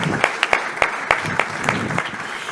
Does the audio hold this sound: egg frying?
no